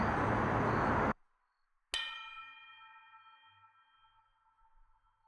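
Drumstick striking a support tine outdoors, one sharp metallic strike that rings on as a clear sustained tone and slowly fades, preceded by a burst of loud broadband noise and a brief near-silence.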